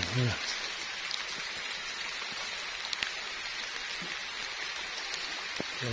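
Steady rain hisses evenly throughout, with a few faint drips and brief low murmurs of a voice in the background.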